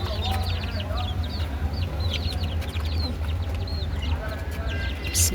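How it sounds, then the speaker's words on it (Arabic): Young chicks chirp rapidly and repeatedly over a low steady hum, their high thin peeps scattered closely together and fairly near, with a voice talking faintly in the background. "كتاكيتنا وحلاوه كتاكيتنا"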